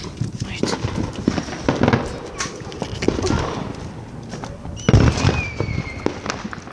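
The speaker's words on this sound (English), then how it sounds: "We got some fireworks." Fourth of July fireworks pop and bang in a rapid irregular series of sharp bursts, with a louder cluster near the end and a whistling streak, while people talk and exclaim nearby.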